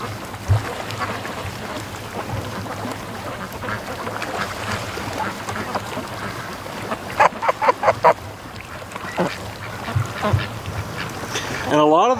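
Muscovy ducks on a lake, part of a free-range flock, give a quick run of quacking calls in the middle of the stretch, over steady outdoor water ambience with a faint voice in the background.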